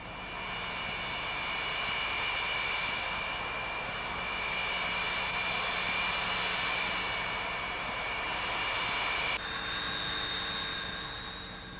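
An Antonov AN-225 transport aircraft with six Lotarev D-18 turbofan engines produces a loud, steady, sustained engine roar with high whining tones throughout, with no voices.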